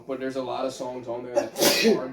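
A single sharp sneeze bursts out near the end, loud and close, right after someone talking about a metal album.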